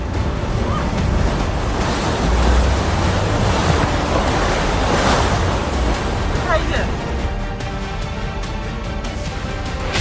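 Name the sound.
flood water in a waterlogged housing society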